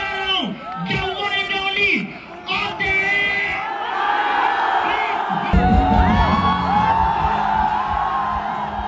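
A large, dense crowd cheers, whoops and shouts at a meetup with a singer at a governor's house, with loud, continuous voices close by and a talking voice heard over the noise.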